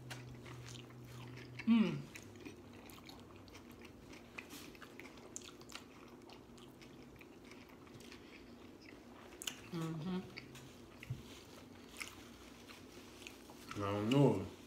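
Bites into a homemade vegan Subway-style sandwich land as a few short, crisp crunches near the start, middle and end, with chewing and talk in between.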